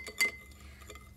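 A spoon stirs sugar into water in a glass, striking one bright, ringing clink against the glass at the start, followed by faint scraping and light taps.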